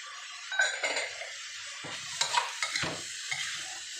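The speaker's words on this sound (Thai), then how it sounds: "พอหมูสุกก็ใส่เส้นลงไปนี่แบบนี้เลย แล้วก็ผัดผัดผัด" Minced pork and glass noodles stir-fried in a wok, with a faint sizzle beneath intermittent scrapes and clinks of a metal spatula against the pan, close and without speech.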